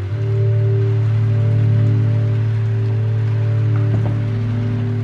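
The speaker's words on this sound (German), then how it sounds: "Und es regnet und regnet und wir sehen den Mond." Rain falls steadily in the video game The Guest, a continuous even hiss laid over a low, constant tonal hum, unchanging and fairly loud for about five seconds.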